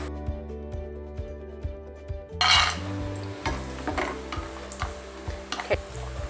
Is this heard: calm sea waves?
no